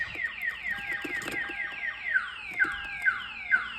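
A Viper 5908v car alarm in a Toyota 4Runner cycles through a fast descending chirp tone, repeating several times at moderate loudness with some background clatter.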